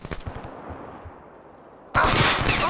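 Gunfire in Black Ops 3 during a kill cam, a quick cluster of sharp shots at the start, then a quiet stretch before a loud burst of noise near the end.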